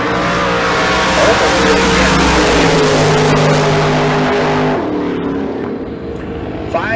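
A bracket drag racing car launches at Tucson Dragway with a loud, close engine roar and revving that cuts off sharply near the end, while a commentator speaks over it.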